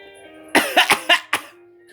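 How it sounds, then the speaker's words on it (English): A burst of five sharp coughs from one person, close and loud, following quickly one after another against a quiet background. "Cough, cough."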